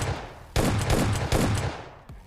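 Bursts of rapid M4 rifle fire from the PUBG Mobile Lite video game, two dense volleys at moderate loudness followed by a single faint shot at the end.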